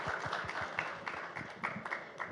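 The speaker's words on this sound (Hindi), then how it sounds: "उनके लिए भी तालियां बजनी चाहिए" Audience applause at a live awards event honouring women, a short burst of steady, fairly distant clapping from a crowd, rhythmic and continuous without speech.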